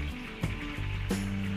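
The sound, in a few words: frying lumpia shanghai in a pan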